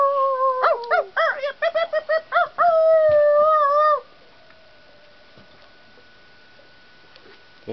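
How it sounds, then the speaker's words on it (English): A pack of wolves howling together outdoors, several loud overlapping wavering howls rising and falling for about four seconds, then cutting off into quiet background with faint scattered ticks. "No, oh, those are wolves."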